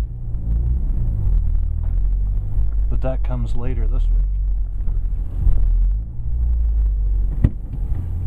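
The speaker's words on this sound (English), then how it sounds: "So here's the startup. Significantly louder." A 2010 Mazda 3 GT with a 2.5-litre engine and stiffer TRZ motor mounts idles after startup, a loud, deep, steady rumble heard from inside the car while someone speaks briefly over it.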